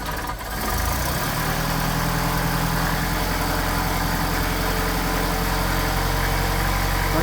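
A cold Mercedes 190SL with Solex carburetors idles steadily after a brief catch at the start, giving a low, even, continuous engine drone with no voices.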